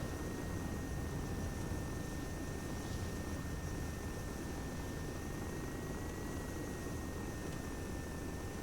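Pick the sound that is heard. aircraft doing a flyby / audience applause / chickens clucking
aircraft doing a flyby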